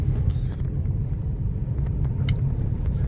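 A Tata Punch car creeps slowly through thick night fog, its engine and road noise forming a steady low rumble, close and continuous, with no talking.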